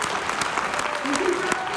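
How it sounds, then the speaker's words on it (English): Audience applause at a BNI business conference in Madrid, a steady wash of clapping from a crowd, fairly close and continuous, with some talk underneath. "A big round of applause for you guys, please."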